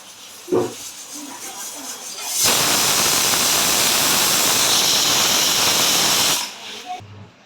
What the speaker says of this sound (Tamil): அஞ்சு விசில் அடிச்சிருச்சு.